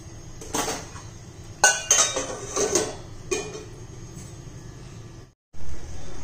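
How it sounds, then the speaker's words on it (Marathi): A metal lid set down on a pan of cooking tomato chutney, making a few close, sharp clinks and clatters in a quiet kitchen with no talking. "आता झाकण ठेवूया त्याला पुन्हा।"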